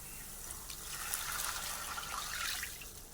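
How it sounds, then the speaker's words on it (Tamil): A soft, steady stream of tamarind water pours and splashes gently into a pot of tomato rasam, fairly quiet throughout. "இதுக்கப்புறம் தான் நம்ம புளி தண்ணியை ஊற்றணும்."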